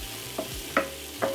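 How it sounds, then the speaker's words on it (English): Spoon stirring cumin, coriander, dried thyme and rosemary in a cooking pot, three short scraping strokes over a low sizzle, close and alone. "Give that a stir."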